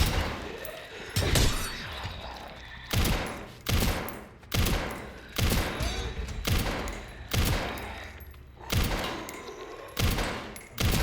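Heavy shotgun blasts boom one after another at uneven intervals, about a dozen in all, each followed by a short rumbling decay and clatter. Gameplay audio from Resident Evil Requiem, loud and close.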